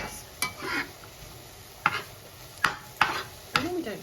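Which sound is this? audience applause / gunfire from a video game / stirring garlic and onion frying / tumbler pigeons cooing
stirring garlic and onion frying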